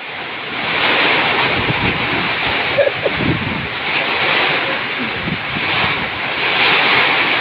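Strong typhoon wind roars continuously and loudly, buffeting the microphone with a dense, surf-like rush and only brief thumps within it.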